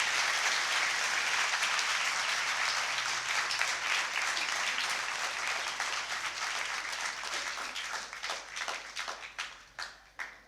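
A church congregation on Palm Sunday claps loudly and densely, the applause full at first, then thinning into scattered, separate claps as it dies away.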